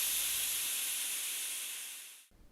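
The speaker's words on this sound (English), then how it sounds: "Gordon said nothing and let off steam nervously." A steam locomotive lets off steam, a loud, steady hiss that holds evenly and then cuts off abruptly, leaving a faint low rumble.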